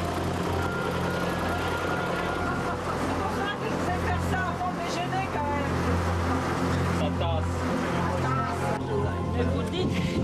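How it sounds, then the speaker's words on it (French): A tractor hauls a passenger trailer across the site of Tell el-Amarna in Egypt, its engine a steady low drone throughout, with a babble of tourists' voices talking over the rumble. "la visite du site de Tel Amarna s'effectue dans une remorque tirée"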